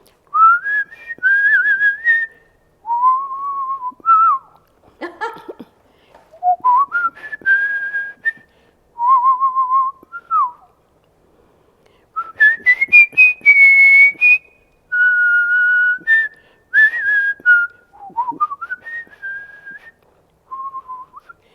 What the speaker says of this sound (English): she gave me a little bit of her whistling, which was fun.